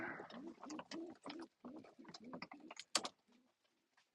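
Racing pigeon cooing in a series of soft, rhythmic low coos up close, with a few faint sharper sounds near the end and no clear talk.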